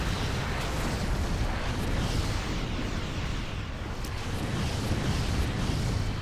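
Weapons fire and explosions from a Star Trek Armada 3 space battle over Bajor, a dense, continuous roar of booms and bursts with no pauses, loud and heavy throughout.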